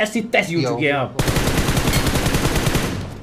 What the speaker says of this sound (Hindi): गोली चलाई काफी बढ़िया तरीके से।